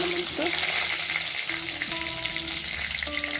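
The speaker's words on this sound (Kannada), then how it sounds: "ಒಗ್ಗರಣೆಗೆ ಸ್ವಲ್ಪ ಸಾಸಿವೆ ಹಾಕೊಳ್ಳೋಣ ಸ್ನೇಹಿತರೆ ಕರಿಬೇವು ಹಾಕೊಳ್ಳೋಣ" Mustard seeds and curry leaves sizzle and crackle in hot tempering oil for a ridge gourd palya, a steady loud frying hiss with scattered pops throughout.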